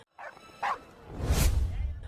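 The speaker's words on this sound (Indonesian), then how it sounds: "tiba-tiba Bos Muyun melihat adanya sosok hewan yang menggonggong" A cartoon dog in an animated show gives two short, sharp barks, followed by a rising whoosh and low rumble.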